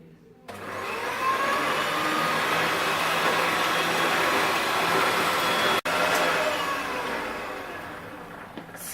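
An electric mixer beats apple batter for a Polish cake, a steady loud whirring drone that runs almost unbroken for several seconds with one brief cut near the end.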